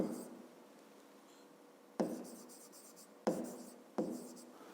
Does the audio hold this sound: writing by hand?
yes